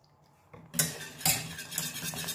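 A utensil scraping and clinking in a pan as a mixture for a frangipane filling is stirred over low heat, quiet at first and then a run of close, busy scrapes.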